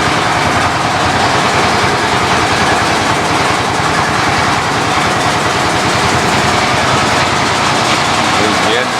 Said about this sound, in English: Our engines have just started throbbing, so my guess is we're cranking up